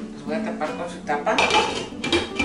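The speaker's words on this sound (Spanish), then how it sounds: "Los voy a tapar." Metal lid set onto a pot of pickled serrano chiles cooking in hot vinegar, a few close clanks and scrapes of cookware in a kitchen.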